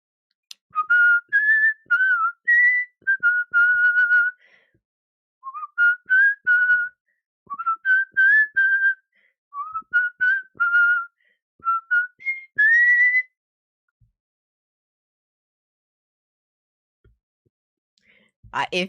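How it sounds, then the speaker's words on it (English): One person whistles a bright, lilting melody in several short phrases with brief pauses, clear and close, for about thirteen seconds. Near-silence follows, ending in a short noise. "If I know it, I can whistle it."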